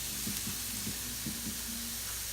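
Food sizzles steadily in a pan for egg fried rice, a constant close frying hiss with a few soft stirring scrapes and taps.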